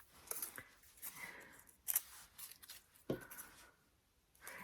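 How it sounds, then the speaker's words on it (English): Scissors snipping paper to shape carnation petals for a paper craft, several crisp cuts at irregular intervals, close and fairly quiet with no talking. "We're going to go ahead and cut some of these."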